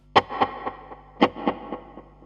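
Electric guitar through a delay effect set for a jangly tone, two plucked phrases of a few notes each, every note trailed by softer repeating echoes that fade away, close and clear with no talking.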